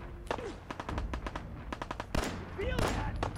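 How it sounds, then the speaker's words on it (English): Gunfire in the video game Fallout 4: a rapid string of sharp, loud shots in quick bursts, with heavier blasts near the middle and end and a brief voice mixed in. "Oh, gunfire."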